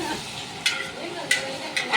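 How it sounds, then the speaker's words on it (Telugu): Colored rice being stirred and mixed in a pan during cooking for a New Year colony celebration, with a low sizzle and several distinct scraping strokes of a spoon against the pan, close and moderately quiet. "కలర్ రైస్ అయితే నేనే ప్రిపేర్ చేస్తున్నానండి. ఇలా అంతా కలబెడుతున్నాను."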